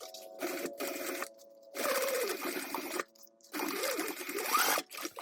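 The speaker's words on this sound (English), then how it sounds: "sew that in place with a 1/4 inch seam allowance" A sewing machine stitches a 1/4 inch seam through fabric and its lining, right sides together, running in three steady whirring bursts separated by short pauses, close and clear with no talking.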